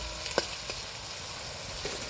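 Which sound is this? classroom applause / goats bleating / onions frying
onions frying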